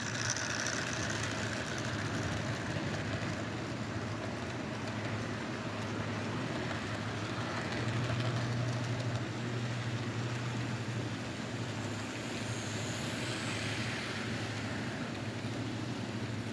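A model train runs continuously on its track, producing a low, even mechanical hum and faint clatter at a quiet level.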